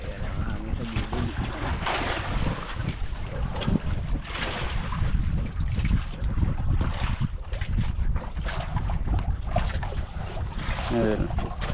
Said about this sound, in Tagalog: Ayan ang hangin sa gilid.